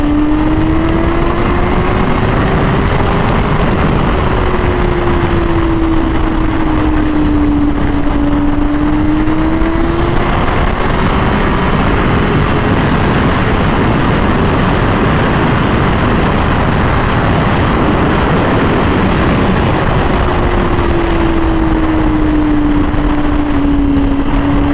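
Honda Fireblade 1000RR-R SP motorcycle engine while riding, a loud sustained drone whose pitch slowly rises and falls, with heavy wind rush throughout.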